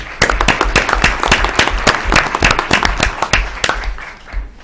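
Audience applause at a school committee meeting, a dense burst of many hands clapping that runs steadily for a few seconds and then tapers near the end.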